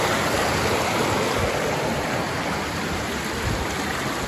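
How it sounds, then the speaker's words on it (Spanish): Clear spring water at a village source in Michoacán rushes and gurgles in a steady, loud, close torrent, a constant broadband roar that doesn't let up, with no voices over it. "Miren cómo corre. Aquí nace y corre por el pueblo y se une al río."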